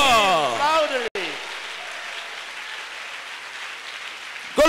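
A church congregation claps loudly and steadily for several seconds after a voice stops, a dense wash of applause filling the room.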